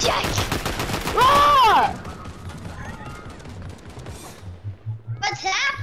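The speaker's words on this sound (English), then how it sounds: "I'm getting shot at!" Rapid Fortnite gunfire in bursts, loud bright cracks and shots with a voice crying out over them, then quieter game sounds and further shots near the end.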